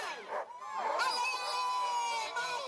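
Enthusiastic crowd at the start of the UP 200 midnight sled dog run in Marquette, with cheering and clapping, excited dogs yipping and barking, and voices shouting over it.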